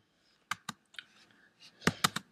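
Typing on a computer keyboard, a handful of crisp, close keystrokes in irregular bursts with short quiet gaps between them.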